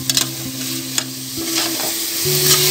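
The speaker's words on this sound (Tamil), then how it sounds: "மாவு ரெண்டு வதக்கு வதக்கிட்டு பன்னீர் சேர்த்துக்குவோம்" Paneer cubes sautéed and stirred in a hot pan for paneer and peas biryani, giving a steady close sizzle broken by a few sharp scrapes and clinks of the spoon, with no talking.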